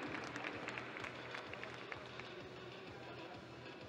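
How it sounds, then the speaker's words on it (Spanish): Crowd applause at a NABBA Mr Mexico bodybuilding competition, cheering off Classic Physique champions; dense, steady clapping fills the hall for the whole span at a fairly distant, even level. "los despedimos con un fuerte aplauso a estos campeones Classic Physique"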